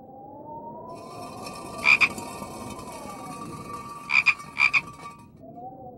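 In the Wii game I Spy: Spooky Mansion, a frog gives a bright croak, then two more close together a couple of seconds later, over a steady eerie music drone.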